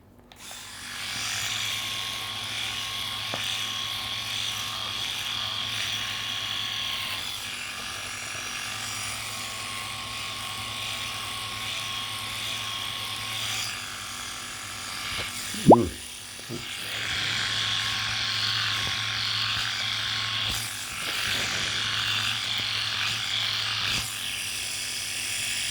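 A Philips Series 5000 electric shaver runs steadily close by while cutting facial hair, a continuous buzzing whir that changes texture as it moves across patches, broken midway by a brief sharp knock.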